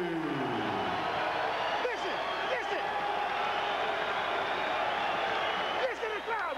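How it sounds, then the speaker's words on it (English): A boxing arena crowd before the fight gives a constant, distant roar of cheering and murmur, with a few whistles rising above the wash. "Listen to the crowd, man."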